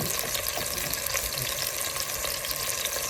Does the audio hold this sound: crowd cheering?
no